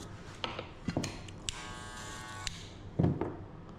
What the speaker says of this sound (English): Now next step, you get the clipper again.